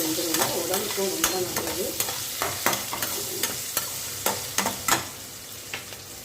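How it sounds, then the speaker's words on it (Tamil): Shallots and garlic sautéing in a pan, a steady close sizzle broken by frequent sharp scrapes and clacks of a stirring spoon against the pan, with no talking. "இது நல்லா வதங்கட்டும்"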